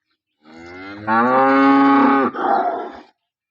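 A single loud, close moo from a local cow that has recently calved, rising and then breaking into a rougher, breathy ending, with silence before and after.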